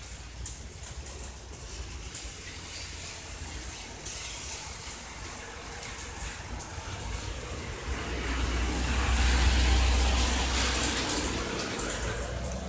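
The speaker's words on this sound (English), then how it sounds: "There's cars driving by, as you can hear now." Cars passing on a road during a thunderstorm, a steady wash of tire and rain noise that swells as one vehicle draws nearer around the end, with no talk.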